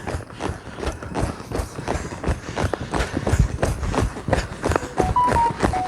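Horse hooves stepping and shifting on the ground during a balance-training maneuver, with an irregular run of near, moderately loud thuds and a brief spoken command.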